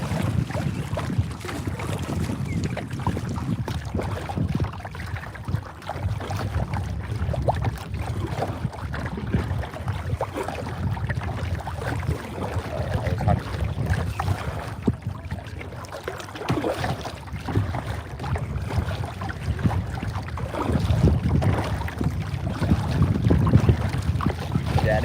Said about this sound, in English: That it is windy.